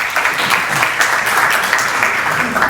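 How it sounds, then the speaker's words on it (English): Conference audience claps for a speaker taking the stage at a networking talk, a short burst of steady, moderately loud applause filling the hall. "Please, a large round of applause for Pieter."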